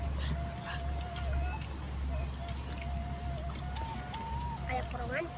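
Chickens cluck and a rooster calls faintly at a distance over a steady high insect drone, with occasional soft voices nearby.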